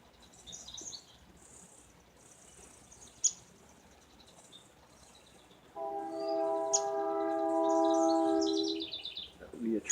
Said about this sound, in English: That would be a train in the background.